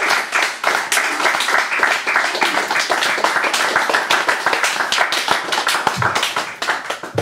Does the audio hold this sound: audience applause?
yes